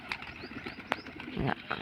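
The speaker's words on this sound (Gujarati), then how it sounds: "કબૂતર અડધા અહીંયા બેઠા હે ને અડધા અહીં બેઠા હે" Pigeons kept in a loft coo softly in short, throaty bursts, close by, with fluttery chirps and faint background noise around them.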